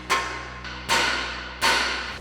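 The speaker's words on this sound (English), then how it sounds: "we'll grab our hammer, give this a few taps to unseat that." A hammer taps three times on the outer tie rod of a 2011-2019 rear-wheel-drive Dodge Charger's front suspension to unseat it. Each sharp, ringing metal strike is evenly spaced and close, with a short decay after it.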